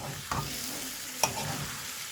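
Chicken karahi stirred in a pan just after the lid comes off, a couple of soft scraping strokes over a steady low sizzle of frying.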